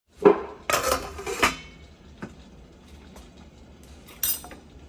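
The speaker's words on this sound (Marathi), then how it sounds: "कढईमध्ये आपण हे मोदक पात्र ठेवलेले इकडे एक ठेवलेलं आहे आणि इथे एक" Metal modak steamer vessels set down into a kadhai clatter in a few close, loud clanks at the start, followed by a lighter knock and a final bright clink, with quiet between.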